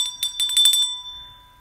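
A bell rung several times in quick succession to celebrate a hit card during a card break, bright repeated rings with a lingering tone and no talk over it.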